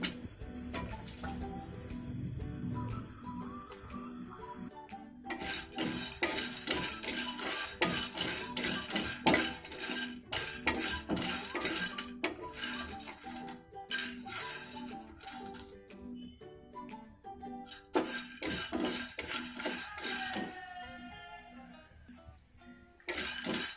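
A spice mixture stirred and sautéed in a kadhai, with continuous scraping and clattering of a utensil against the metal over a soft sizzle that eases off near the end, with no talk.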